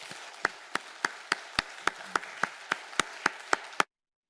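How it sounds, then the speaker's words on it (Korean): A church congregation claps in a steady, unison rhythm, about a dozen sharp, evenly spaced claps over a soft bed of scattered applause, ending abruptly into silence. "하나님 앞에 감사의 박수를 다시 한번 올려드리십시오"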